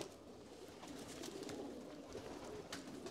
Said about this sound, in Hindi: ये देखिए फ्रेंड्स, गोल्डन कबूतर